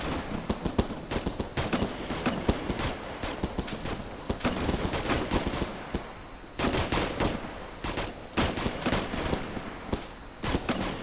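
Rapid bursts of gunfire crackle through a military video game, with dense volleys of sharp shots broken by brief lulls over a steady battle din.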